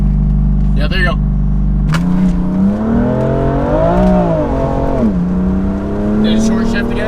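A BMW M4 Competition engine pulls hard from the cabin, its pitch climbing and dropping through a gear shift while voices talk over it.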